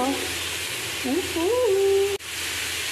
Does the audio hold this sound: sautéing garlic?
yes